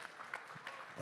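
Brief, moderately distant applause from an audience, a steady patter of clapping with no voices over it.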